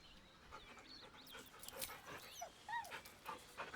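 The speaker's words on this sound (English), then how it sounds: "The dog whimpers nervously, as if to urge you on." A dog in the video game Baldur's Gate 3 whimpers and pants softly, a few faint high whines and yips up close over quiet ambience.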